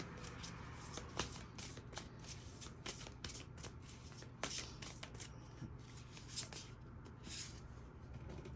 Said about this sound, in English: Let's see what the tarot card says with this.